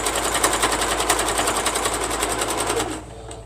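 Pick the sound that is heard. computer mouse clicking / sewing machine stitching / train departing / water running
sewing machine stitching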